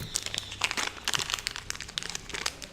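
A mail package is torn and opened, its plastic and paper wrapping crinkling and crackling in quick, close bursts for a few seconds.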